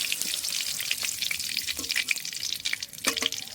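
Soybean chunks frying in hot oil in a home kitchen, a steady close crackling sizzle with brief stirring scrapes, no talk.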